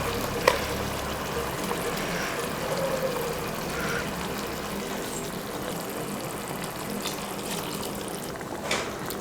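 Vegetables and ground masala sautéing in a pan for sambar rice, giving a continuous low sizzle and hiss with faint scraping and a few small clinks, moderately quiet, with no talking.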